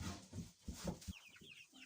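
Young chickens clucking and peeping in a farmyard pen, a busy run of soft, close clucks and higher chirps with no talking.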